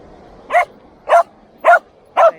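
Dogs barking and playing on a big beach on Scotland's east coast, four evenly spaced, fairly loud barks standing out against quiet surroundings.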